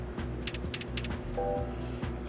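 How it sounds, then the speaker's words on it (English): Steady low mechanical drone from an old, antiquated heating and cooling system, with a constant hum and faint rhythmic pulsing. Brief higher tones and clicks sit over it in the background. "Sorry about the noise of my antiquated, very old heating and cooling system in the background"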